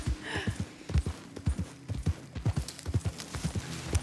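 Horse hooves clip-clop at a steady walking rhythm in the Red Dead Redemption 2 video game, a regular series of muffled knocks heard clearly without talk.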